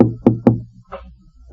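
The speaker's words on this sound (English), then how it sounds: "And then there was a knock on the door." Three firm knocks on a door come in quick succession, close and distinct, followed by a faint rustle in an otherwise quiet room.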